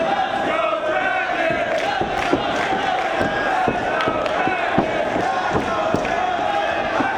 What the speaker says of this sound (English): The crowd now showing their appreciation of both men.